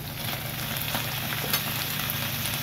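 Banana stem dropped into frying spice paste in oil for a vegetarian thor dalna, a loud close sizzle with the scrape of stirring, continuous and busy.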